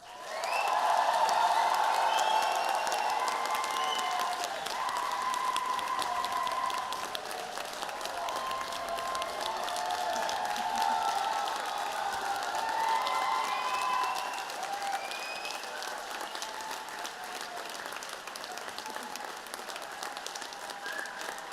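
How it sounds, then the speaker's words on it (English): Sustained applause from a large audience at an engineering management master's hooding ceremony, loud at first and then gradually thinning, with a few faint cheers and whoops mixed into the steady clapping. "Let's have one last round of applause for our graduates."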